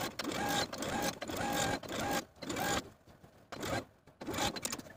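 Close, steady whirring of a sewing machine understitching a collar seam allowance onto the uninterfaced collar piece, running in several bursts separated by brief pauses, with no talk.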